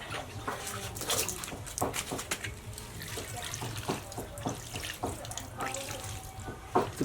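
Water poured from a tap or container while watering a freshly cut philodendron cutting, a steady running trickle with small splashes, close up, with someone talking intermittently over it.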